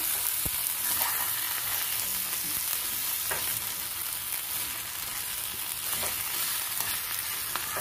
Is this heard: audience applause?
no